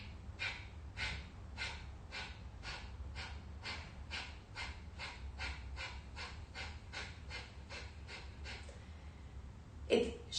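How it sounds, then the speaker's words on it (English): A person doing sharp, forceful exhales in a steady rapid rhythm during a breathing exercise for meditation, each breath a short airy puff repeating about twice a second, close and alone, ending with a louder breath. "Sharp exhales, inhales are gonna happen naturally, automatically."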